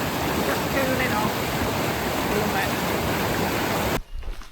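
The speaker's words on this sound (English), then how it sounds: "the water's very, very fast, as you can see" A fast-flowing river rushes loud and close as a broad, continuous roar of water, cutting off abruptly near the end to leave a quieter, rustling background.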